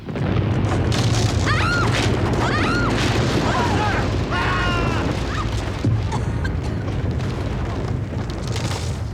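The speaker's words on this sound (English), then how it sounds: "someone just blew up your spaceship" A spaceship blowing up in the 1984 film Rocket Boy: a loud, sustained rumbling blast with whistling, warbling sci-fi effects layered over a continuous roar.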